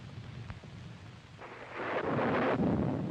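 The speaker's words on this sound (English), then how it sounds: "There's a bad storm going on." Storm thunder from the 1943 film The Black Raven: a low rumbling roll that swells to a loud, sustained roar in the second half, with no voices over it.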